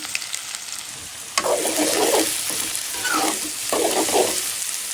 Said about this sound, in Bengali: দিয়ে দিলাম আলু,